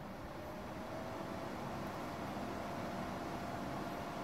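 An ARKDAN air purifier's fan runs at its highest speed, giving a steady, even whoosh of moving air that holds constant without change, quiet overall and with no voices.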